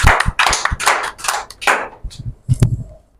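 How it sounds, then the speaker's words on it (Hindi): Applause at a Mother's Day programme welcoming an honoured guest, heard as bursts of clapping from a small audience that start and stop in uneven clusters, fairly close and loud, with no talk over it. "जोरदार तालियों से आमंत्रित करें आदरणीय शीला टेलर।"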